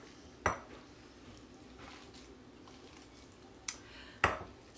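Canned chickpeas being smushed for a veggie burger give a few sharp utensil knocks against a bowl, three distinct clacks spaced apart over quiet near-silence.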